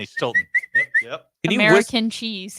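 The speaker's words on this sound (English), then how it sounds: "You whistle at a cat?" A person whistles several short rising notes to call a cat, followed by talking.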